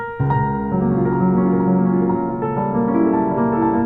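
Piano chords blur together into a muddy, ringing wash as each new chord piles onto the sustained notes of the last.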